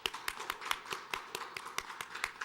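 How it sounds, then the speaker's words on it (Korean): Applause during a Christmas thanksgiving service at a church, heard as sparse, distinct individual claps in an uneven rhythm, fairly close and quiet, with no talking. "우리 뜨겁게 박수 한번 보내드리겠습니다"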